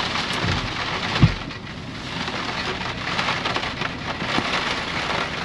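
Steady rain pours down at a mountain campsite beside a stream in Big Sky, Montana, with one sharp thunder crack early on and continuous hissing downpour throughout, no voices.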